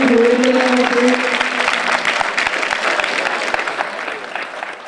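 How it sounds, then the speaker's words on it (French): Crowd applauding and cheering outdoors at a cycling hour world record attempt, dense sustained clapping with a few voices calling out at the start, gradually thinning. "Et c'est parti, on applaudit."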